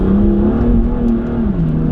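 A BMW M2 Competition accelerates hard on a slippery, 44-degree New England road. Its engine drones loud and steady and close, rising then dipping slightly, with the tire spin blended into the engine noise. There is no talking.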